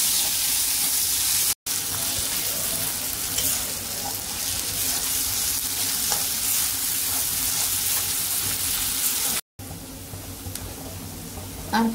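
Tomatoes sautéing in a pan with ginger-garlic paste give a steady, close sizzle and crackle, with faint stirring scrapes throughout and no voices.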